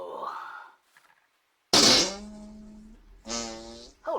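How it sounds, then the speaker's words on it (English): A fart sounds out loud and close, a brief burst with a low, buzzing tone, followed by another short rasp, with quiet moments before and between. "I farted."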